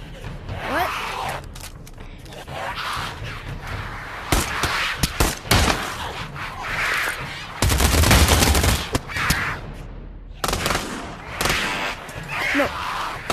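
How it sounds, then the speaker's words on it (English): Video game gunfire comes in bursts of sharp shots and rapid automatic fire, loud and close, with quieter gaps between volleys and people talking at times. "do you love, like, shooting in this game?"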